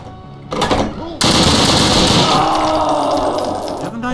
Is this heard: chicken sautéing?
no